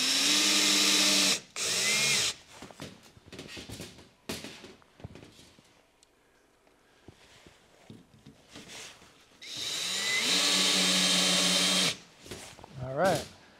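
A power drill drives screws while a broadfork is assembled, in loud whirring bursts at the start and again later. Between the bursts a person talks over quieter handling noises.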